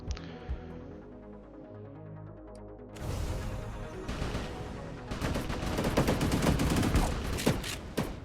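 Assault rifle fire in the video game Gunstoppable: loud rapid automatic bursts that start after a quieter opening and continue densely to the end.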